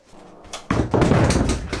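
An indoor house door slams shut with two heavy, close thuds in quick succession, rising out of a quieter background rumble.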